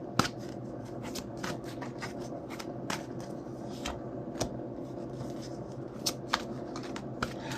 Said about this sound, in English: Oh, by the way, I'm shuffling the cards from the